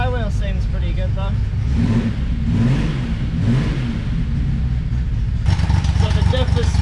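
A Datsun 240Z engine runs in gear during a manual gearbox swap test, a steady loud mechanical drone with a rising rev and whine, while someone talks over it.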